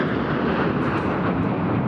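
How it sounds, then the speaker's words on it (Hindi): Military jets and aircraft roar loudly overhead in a flypast above Red Square, Moscow, a dense continuous engine rush without pauses. "परेड के बाद वहां विमानों ने फ्लाई पास्ट भी किया।"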